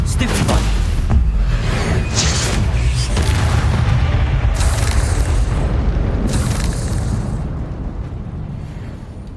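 Explosive Confringo spell blasts in Hogwarts Legacy, played on PS5, hit as repeated booming bursts over a dense, continuous rumble of combat, with sharp flashes of impact around the start, middle and later, fading slightly toward the end.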